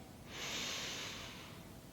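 A single deep inhale through the nose during kundalini yoga breathing, near and steady, swelling over about a second and then easing off, with no voice over it.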